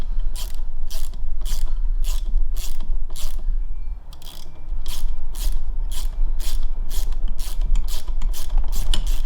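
A ratchet fitted with a 9 mm socket undoes the cylinder head bolts of a Solex 3800 moped engine. It makes quick, loud bursts of rapid clicking with a brief pause partway through.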